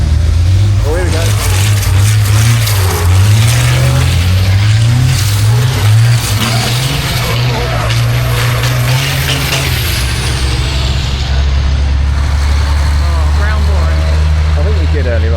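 Racing trucks roaring around the Brands Hatch circuit, a loud sustained diesel engine drone with shifting pitch as they pass, plus air-brake hiss and crowd noise.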